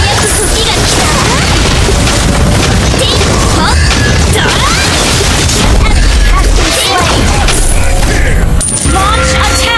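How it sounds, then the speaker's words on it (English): A turret destroyed in an online multiplayer battle game, amid dense loud booms, crashes and bursts of combat effects, with a game voice announcing over the continuous din. "Our turret has been destroyed."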